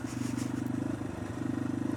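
A motorcycle engine hums steadily at cruising speed during a ride, a close, even low drone with a pulsing rhythm and wind noise, no voices.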